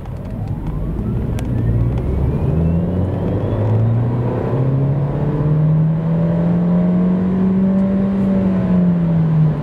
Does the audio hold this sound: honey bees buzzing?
no